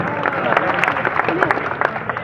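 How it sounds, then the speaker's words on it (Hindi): Audience at an Aam Aadmi Party rally in Maham welcomes a Punjab cabinet minister with loud, sustained clapping, a dense crowd patter mixed with background voices. "एक बार जोरदार तालियों से मैं स्वागत किया जाए"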